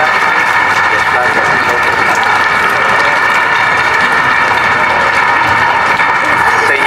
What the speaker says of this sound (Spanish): démosle un fuerte aplauso al Señor de Santo Entierro